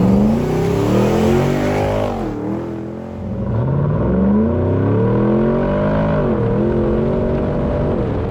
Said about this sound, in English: This 110 is powered by our LT1 engine with 8-speed automatic transmission